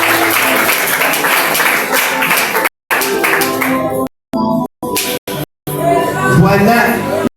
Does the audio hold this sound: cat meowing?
no